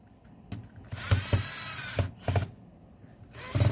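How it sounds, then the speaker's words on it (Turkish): Screws being tightened on the cover of a Moulinex chopper, short bursts of whirring with clicking, separated by brief quiet pauses, close by. "Ve vidalarını sıkıyorum."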